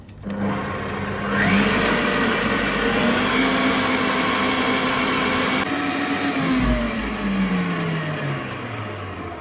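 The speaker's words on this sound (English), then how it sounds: "I'm going to fix in my wax attachment and continue creaming for about extra 5 to 10 minutes" Electric mixer with a whisk attachment creaming pound cake batter, a loud steady motor whine with a rising pitch as it speeds up, then a gradual fall as it slows, continuous and close with no talking.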